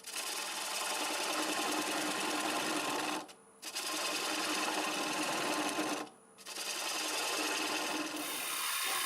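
Wood lathe spinning a bowl at about 650 RPM while a 1/2-inch bowl gouge cuts, a steady rough scraping hiss that stops briefly twice as the tool lifts off, fairly close and continuous.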